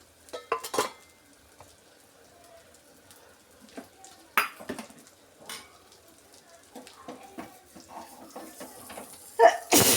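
Pan of fried fish being lifted off a kitchen stove: faint sizzling under scattered clinks of metal utensils and pots, with a few sharper scrapes and knocks, close and intermittent.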